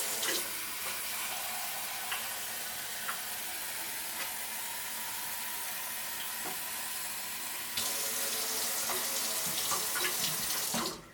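Tap water pours steadily into a cooking pot for about eleven seconds, a continuous close splashing rush that grows slightly louder as the pot fills, then stops.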